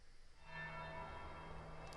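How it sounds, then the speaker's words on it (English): A single bell tolls once in Dragon Age: Inquisition, a faint, soft metallic strike that swells and then rings on with a sustained hum, heard alone. "One bell. We're late."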